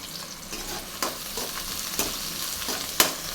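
Big onion frying in hot oil sizzles steadily up close, broken by sharp stirring clicks and scrapes about once a second.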